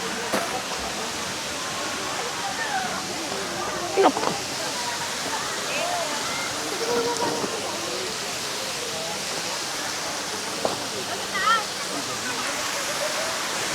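Batlag Falls pours in a steady, broadband rush of falling water, loud and close, with faint scattered voices of a crowd of visitors under the constant roar.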